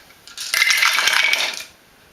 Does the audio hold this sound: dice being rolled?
yes